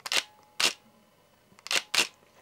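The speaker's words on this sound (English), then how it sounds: "the mirror slap and the shutter sound" A Nikon D90 digital SLR fires its shutter twice, each release giving a crisp double snap of mirror slap and shutter, close and clear against near silence, with a short pause between the two pairs.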